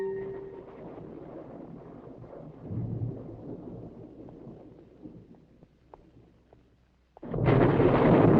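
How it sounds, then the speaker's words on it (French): Low thunder rolls and rumbles through a storm, easing to a quieter murmur before a sudden loud, broad roar bursts in near the end. "Il y a de l'orage dans l'air."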